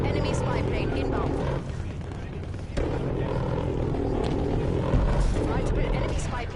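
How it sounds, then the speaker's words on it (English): Enemy spy plane in a first-person shooter game droning overhead as a steady, loud rumbling engine wash under voice callouts, with a brief dip partway through and heavier rumble near the end. "Enemy spy plane inbound."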